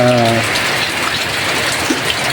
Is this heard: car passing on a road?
no